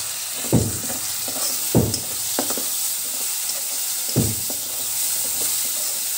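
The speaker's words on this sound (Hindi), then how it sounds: "अब डालेंगे टमाटर," Tomatoes hit a hot frying pan for dal palak over a garlic paste, with a steady sizzle broken by three or four scraping stirs. The sound is close and moderately loud, and no one speaks.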